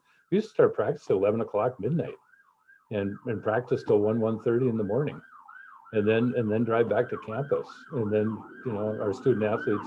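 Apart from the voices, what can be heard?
emergency vehicle sirens outside a home office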